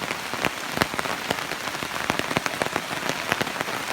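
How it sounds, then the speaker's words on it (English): Heavy rain drums on a tarp in the woods, a dense close patter with sharp, irregular louder drops striking the fabric throughout, no voices. "the rain's just getting heavier and heavier"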